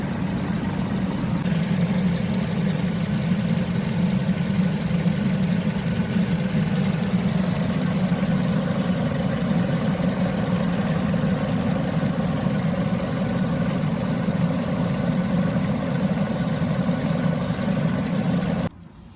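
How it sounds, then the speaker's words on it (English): A Vauxhall Corsa D engine runs steadily at a raised, even drone with a low rumbling hum while being revved to warm up, cutting off abruptly at the end. "I'm going to just rev the engine, try and get it up to temperature a bit quicker."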